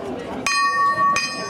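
A bell ends a chukka at a polo match, two sharp metallic strikes a moment apart, each ringing on with a bright sustained tone, while a commentator talks underneath.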